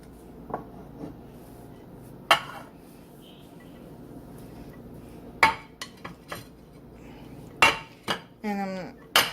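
Caramel turtle brownie batter from a Duncan Hines mix is scraped from a heavy Pioneer Woman mixing bowl into an 8x8 baking pan, with scattered utensil clinks and knocks and a short rasping scrape near the end.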